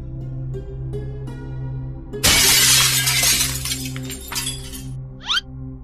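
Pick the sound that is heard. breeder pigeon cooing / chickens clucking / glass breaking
glass breaking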